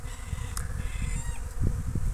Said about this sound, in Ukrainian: Ми полетіли на пасіку, бо полетіли бджоли.